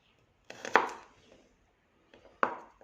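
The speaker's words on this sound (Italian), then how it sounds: "Adesso tritiamo l'aglio." Garlic being chopped with a knife on a board while preparing swordfish and eggplant rolls: two short bursts of close, crisp blade strikes, separated by a brief pause.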